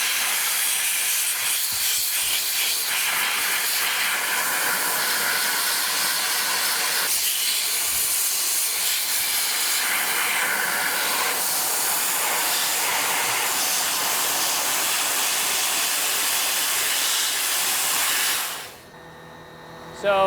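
Dry ice blasting gun, a precision nozzle, cleaning the undercarriage of a BMW E36 M3 near the transmission: a loud, steady broadband hiss of blasting pellets and air that runs continuously before cutting off abruptly near the end.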